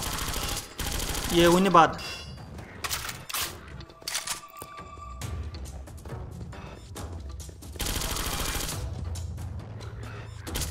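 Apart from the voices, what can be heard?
gun firing at zombies in Granny House horror video game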